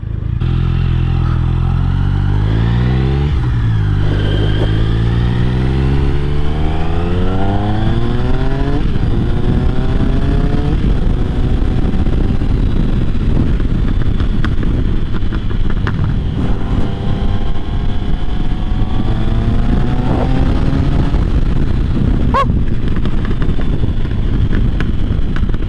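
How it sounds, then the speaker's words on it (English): A superbike motorcycle engine revs hard outdoors, its pitch climbing and falling in repeated sweeps over a steady loud rumble, with some wind noise and no talking. "Yeah, I love this bike, man. This bike sounds amazing, man."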